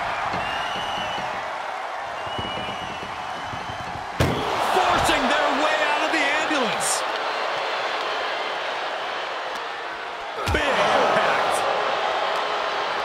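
An ambulance door slams shut twice during a Jax vs Selever match, each a sharp, loud hit about six seconds apart over a busy background.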